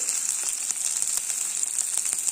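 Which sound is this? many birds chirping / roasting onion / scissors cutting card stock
roasting onion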